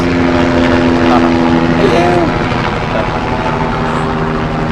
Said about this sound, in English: I got a little helicopter going over.